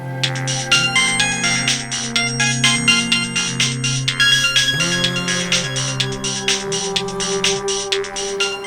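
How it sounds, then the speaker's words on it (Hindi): A mobile phone ringtone plays continuously, a bright repeating electronic melody with steady rhythmic pulses, loud and close, with no other sounds. "मोबाइल का रिंग बजना, वो भी लगातार।"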